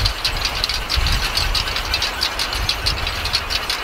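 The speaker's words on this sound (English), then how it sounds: "This is a very complicated wind sculpture." A complicated outdoor wind sculpture clanks and rattles continuously in the wind, a dense repeating metallic knocking with gusty rumble underneath, loud and close, no voices.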